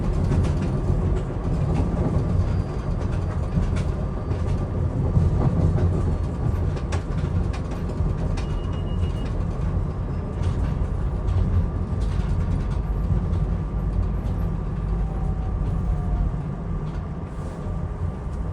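SEPTA train 6345 from West Trenton rumbles and clatters across the tracks ahead, heard from inside a moving passenger train: a loud continuous rail roar with rhythmic wheel knocks and metallic rattles throughout.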